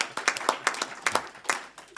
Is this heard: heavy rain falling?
no